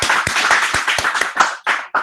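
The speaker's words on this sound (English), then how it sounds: "This is how we need to clap" Audience at a communication skills training workshop claps in unison, with sharp, close, loud claps in a steady rhythm of about four per second. The claps grow slightly uneven near the end, and no voices are heard.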